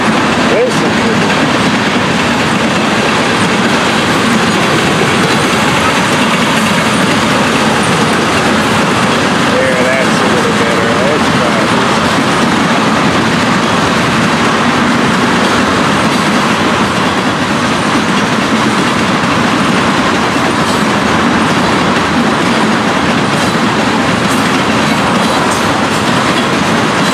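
A Florida East Coast Railway freight train rumbles past close by, steady and loud, wheels clattering rhythmically over the rails with occasional faint squeals.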